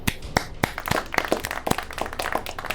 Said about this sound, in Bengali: হাততালি দিল দেবাংশু